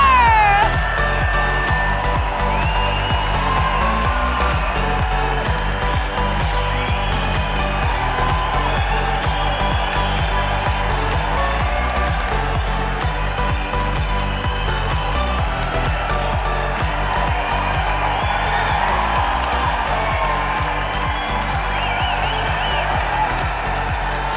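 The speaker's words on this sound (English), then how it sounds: "a round of applause for your top 10 finalists for 2019 Miss Hooters International" Sustained crowd applause and cheering from a pageant audience for the Miss Hooters International top 10 finalists, loud and continuous throughout with a steady roar over music.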